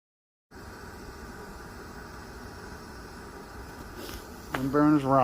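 An MSR Windburner camping stove burns with a steady, even roar on a cold winter storm night on Balsam Lake Mountain in the Catskills, and a voice speaks over it near the end.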